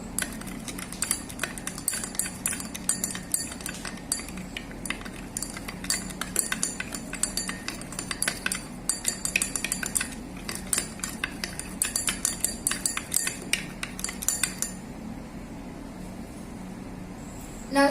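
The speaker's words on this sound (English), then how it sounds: "Mix nicely with the help of the glass rod" A glass rod stirs chalk powder into water in a glass beaker, tapping and clinking against the glass in quick, continuous, irregular bursts that stop near the end.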